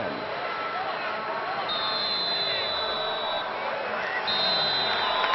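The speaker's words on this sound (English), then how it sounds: "You can hear the supporters rising to their feet and starting to bring up the tempo a little bit" Football supporters in the stands at a Columbus Crew match cheering as they rise to their feet near full time, a steady distant crowd roar with occasional whistles, under a commentator's voice.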